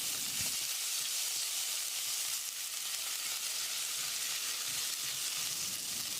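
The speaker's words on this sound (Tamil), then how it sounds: "2 டேபிள் ஸ்பூன் இஞ்சி பூண்டு விழுது இடித்தது. ஒரு 10 செகண்ட் இதை பரட்டி விட்டுடலாம்." Crushed ginger garlic paste sizzling in hot oil inside a pressure cooker, a loud, continuous frying hiss with faint stirring clinks.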